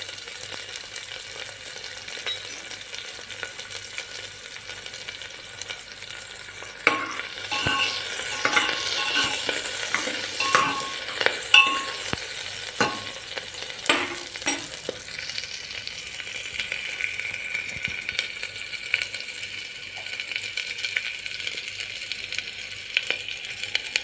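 Ground cumin and pepper powder frying in a pan with oil for a pulao, a soft crackling sizzle with stirring scrapes and clinks that grows livelier midway, no talk.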